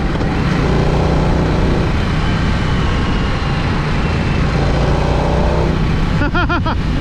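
A 2023 Harley-Davidson Nightster Special motorcycle engine pulls hard under acceleration, a loud continuous drone with rising engine tones and steady wind rush throughout, heard from the rider's position.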